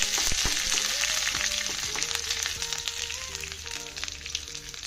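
Curry leaves dropped into hot oil with onions crackle and pop in quick bursts over a low sizzle, with faint thin whistling tones running beneath, moderately close and without speech.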